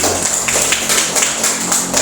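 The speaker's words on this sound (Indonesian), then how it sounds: "Iya betul, beri tepuk tangan." Students in an Indonesian math lesson on fractions clap together in a steady patter of rhythmic applause, close and fairly loud, over room noise with no clear talking.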